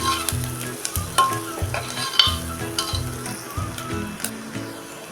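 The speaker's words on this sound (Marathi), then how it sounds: "बघा कांदा चांगला ट्रान्सपरंट होत आलेला आहे अजून एक मिनिटवर हा परतून घेऊया" Onions sautéing in a pan for dal khichdi, a close, lively sizzle with regular spatula scrapes and stirring knocks against the metal pan repeating throughout.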